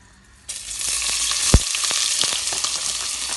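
Onions hit hot oil for fried rice with a sudden loud sizzle that stays as a steady hiss, broken by a sharp clatter of a utensil.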